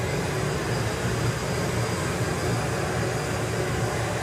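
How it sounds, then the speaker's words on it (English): Turbine-powered drag racing car winds up with a steady roaring whine and afterburner pops at a drag strip. The roar stays at a constant loud level throughout, with no distinct separate bangs standing out. "The afterburner pops are going to get a little bit louder, a little bit fiercer."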